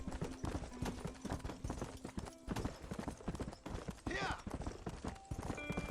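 A horse in the Red Dead Redemption video game walks at a steady clip-clop, its hooves beating an even rhythm throughout, with game sounds and possible voices layered over it.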